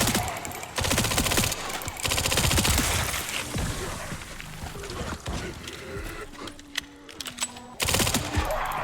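Rapid bursts of 9 mm SMG fire in Resident Evil 9, played in first person on Classic difficulty, crackling in several dense volleys with short pauses between them, set among game sound effects and ambience.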